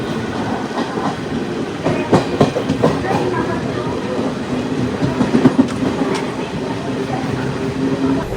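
A Sabarimala special passenger train runs on rails toward Ernakulam, steady rumbling with rhythmic clickety-clack wheel beats and occasional louder knocks, close and continuous throughout.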